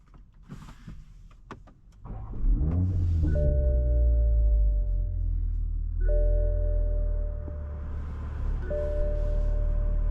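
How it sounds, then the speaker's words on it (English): Toyota GR Supra's 3-liter turbocharged inline-six cranks over and catches with a rising roar around two seconds in, then settles into a loud steady idle; brief blips swell the engine note three times, each holding a few seconds before dropping back. "This vehicle has a 3-liter turbocharged inline 6 with 382 horsepower and 368 pound-feet of torque. Let's get it started up."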